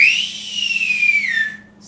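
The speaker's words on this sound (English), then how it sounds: "let's give Bev a whistle" A single rising-then-falling whistle, clear and fairly loud, sounds alone for about two seconds as a cheeky whistle aimed at a woman named Bev.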